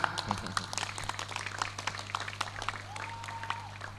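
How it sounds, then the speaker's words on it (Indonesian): Applause from an audience at a nighttime community dialogue event, many hands clapping steadily and fairly faint over a constant low hum, with a brief tone near the end. "Aplaus untuk kita semua."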